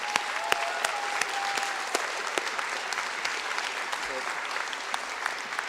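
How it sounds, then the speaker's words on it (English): An audience at a community political talk in Morinville applauds a young man on stage, giving steady clapping with some sharper individual claps standing out, moderately distant, with faint murmurs in the background. "Give him a round of applause"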